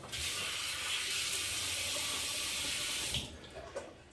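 A safety razor rinsed under a running bathroom tap, a steady close rush of water that stops abruptly near the end, followed by a few faint drips and clinks.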